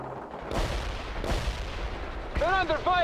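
Gunfire and artillery blasts in the Cold War strategy game World in Conflict: Soviet Assault, two broad booming bursts followed by a rumbling battle bed, with voices talking over the later part.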